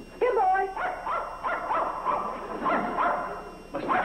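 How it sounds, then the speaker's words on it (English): A dog in a vintage sitcom gives a few short yips and whimpering barks in quick bursts, fairly close, with a brief pause near the end before another yelp. "where's the dog?"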